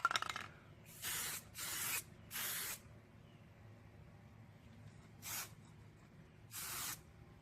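Short bursts of aerosol paint spray hissing onto exterior parts of a Toyota AE86, five or six close, even passes separated by quiet pauses.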